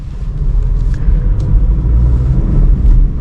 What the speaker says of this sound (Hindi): अब गाड़ी चल रही है 40 के आसपास